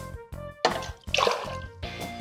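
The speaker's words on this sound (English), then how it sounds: "The first step is we need to pour half a cup of hydrogen peroxide into this glass." Hydrogen peroxide pours into a glass in short bursts, a splashy liquid trickle starting and stopping a few times, close and clear with no talk.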